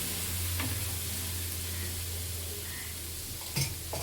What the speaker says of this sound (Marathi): तवा गरम झालाय, थोडं पाणी टाकते